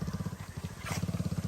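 A motorcycle runs past on a village road in Barotac Viejo, Iloilo, Philippines, its engine a faint, steady, rhythmic putter heard from a distance.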